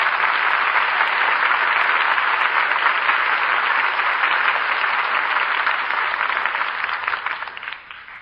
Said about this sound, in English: And we all join in applauding the artists who brought us this play tonight.